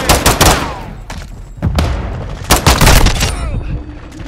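Close, loud bursts of gunfire from the Call of Duty: Modern Warfare II video game, rapid automatic shots and booming impacts in quick succession, mixed with short in-game voice callouts.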